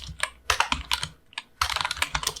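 Keys clatter on a computer keyboard while HTML code is entered, quick bursts of close, crisp clicks broken by short pauses, with no talking over them.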